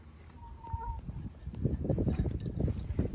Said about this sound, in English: Colleen sends us down eggs, fresh eggs, from her darling little chicken coop that Micah made for her.